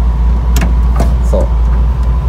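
A Volkswagen Type 2 bus engine hums in a steady low drone from inside the vehicle, loud and close, with a few faint knocks and clicks over it.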